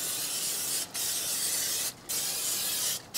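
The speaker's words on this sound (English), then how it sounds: "We're coming right on with our Pam spray." A can of Pam cooking spray hisses onto chicken wings in three long, steady bursts, each separated by a brief pause, loud and close.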